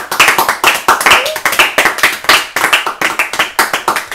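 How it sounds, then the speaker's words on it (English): A church congregation at a Sunday service claps steadily and loudly, a rapid dense patter of many hands, with a voice briefly audible beneath the applause. "clap your hands for Jesus Christ"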